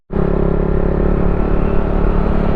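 Steady, loud engine drone from a KTM 390 motorcycle while riding on a road trip toward Kodaikanal, a continuous close rumble holding an even pitch throughout.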